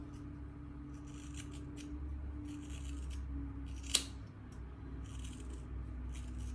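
Scissors snip through hair in soft, quiet, close cuts, a handful of short crisp strokes with one sharper snip in the middle.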